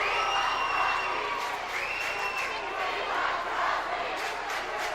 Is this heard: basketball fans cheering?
yes